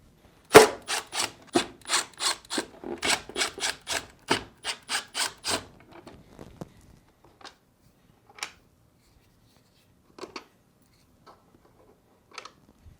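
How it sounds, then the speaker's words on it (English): A Phillips screwdriver turns out the screws holding the ice chute plate on a Whirlpool refrigerator, making a quick run of close, rhythmic scraping clicks. These fade into a few sparse, faint taps and rattles. "Using a Phillips screwdriver, remove these 4 screws holding the ice chute plate in place."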